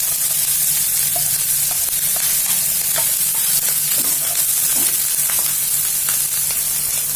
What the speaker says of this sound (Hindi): कैरेट, इसको फ्राई कर लेना है।